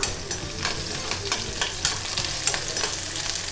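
Shallots, cinnamon stick and a green chili frying in a pan with a steady close sizzle, broken by a series of scraping stirs at an irregular rhythm.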